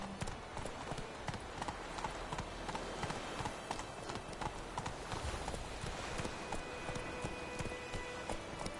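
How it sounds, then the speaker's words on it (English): A horse's hooves clip-clop steadily in The Witcher 3 as the rider travels, a continuous fast rhythmic patter of hoofbeats close by under faint ambient game sound. "Whoa there, Roach."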